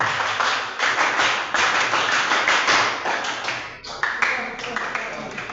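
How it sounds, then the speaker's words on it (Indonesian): A classroom of students performs the tepuk pramuka scout clap together, a loud patterned run of rhythmic hand claps with brief pauses between groups, close and dominant. "Tepuk pramuka."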